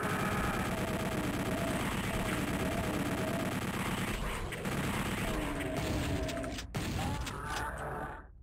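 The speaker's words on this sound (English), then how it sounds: "Shoot the monitors where she shows up" Rapid gunfire in the shooter DOOM 64 blasting monitors: a dense, continuous stream of loud, rhythmic shots layered over game machinery and ambience, with a sharp break near the end.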